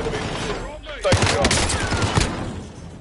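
Gunfire in Call of Duty Warzone arrives as a loud burst of several rapid shots after a quieter lead-in, mixed with a speaking voice.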